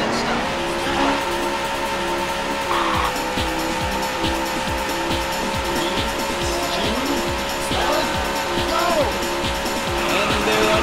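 Race car engines roar steadily in the arcade racing game Daytona USA, with rhythmic revving, tire squeals and a continuous loud motor drone, accompanied by an announcer's voice.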